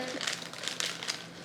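Plastic bag being cut open and crinkled while making sea salt caramel brownies, a string of soft, close crackling rustles spread across a short moment, with no talk.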